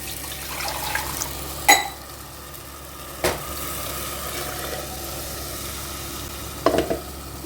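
Kadhi being stirred with water in a pot, a steady low simmering wash with a few sharp spoon scrapes and knocks against the pot at intervals, close and moderately loud, no talking.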